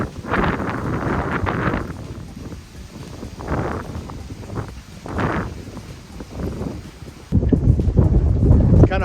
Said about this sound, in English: it's blowing out here probably 25, maybe 30 knots